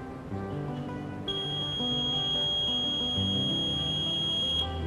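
A long, steady, high-pitched beep from an electronic voting machine begins after about a second and holds unbroken to the end, over faint background music.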